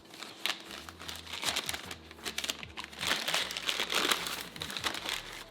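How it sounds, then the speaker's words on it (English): Wrapping is crinkled and torn off a wine bottle at close range, a continuous papery crackle with sharper tearing bursts throughout. "Would you like to unwrap it, Laura?"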